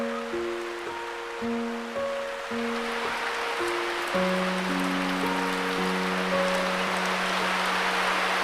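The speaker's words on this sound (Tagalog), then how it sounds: "Pero bigla naman lumakas ang ulan." Steady hiss of rain falling continuously, with sustained low tonal notes running underneath like background music.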